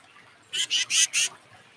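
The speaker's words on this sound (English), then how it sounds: "with its nasally scolding call." A tufted titmouse gives its nasal scolding call: four quick harsh, buzzy notes in a tight burst, close and clear against a quiet background.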